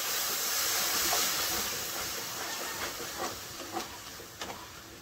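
Spice masala frying in a pan with a little water and a pinch of sugar, giving a steady loud hiss that eases slightly, with faint scraping ticks of stirring later on.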